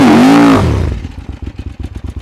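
An adventure motorcycle revs hard while being pushed out of sand, a loud rising engine howl dropping into a rapid, pulsing idle chug close by, with no talking.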